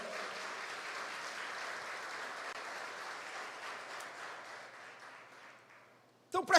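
A church congregation applauds with steady, even clapping that fills the room and slowly fades, before a brief louder burst of sound at the very end.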